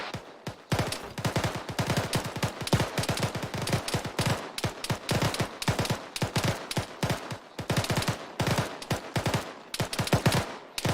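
Gunfire in the military shooter Squad: steady, rhythmic bursts of automatic fire crack out loud and close, one after another for the whole stretch, with no talking over them.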